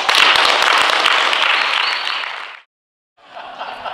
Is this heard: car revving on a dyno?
no